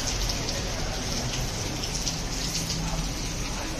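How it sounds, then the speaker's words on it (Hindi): Heavy rain pours down steadily in Dubai, a dense continuous hiss of drops striking surfaces, loud and even with no talk over it. "देखिए कितनी बहुत तेज बारिश हो रही है।"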